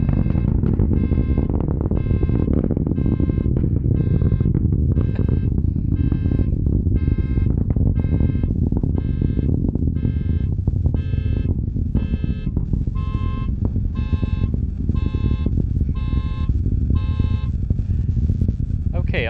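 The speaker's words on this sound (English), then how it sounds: "The Atlas V decided to set off the car alarm." A car alarm set off by an Atlas V rocket launch at Cape Canaveral blares loudly, sounding repeated rhythmic electronic tones over a constant heavy rumble that continues throughout without letting up.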